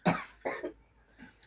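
A child coughs close by: one sharp cough, then a quick double cough, followed by a faint, softer cough.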